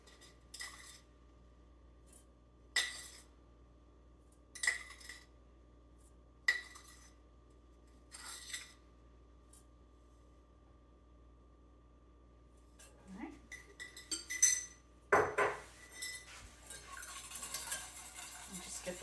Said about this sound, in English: we're going to start by just whisking everything together